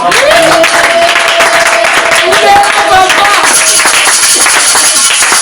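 A church congregation clapping and applauding together, a loud, steady wash of hand claps filling the room, with a voice and some tonal sound mixed in underneath.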